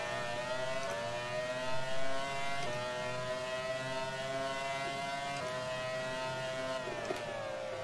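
Race cars in the Grand Prix 4 game, a constant high-pitched engine drone with brief dips at gear changes, steady and close, other cars passing under it, no talk.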